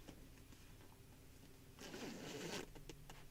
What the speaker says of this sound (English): it just zips up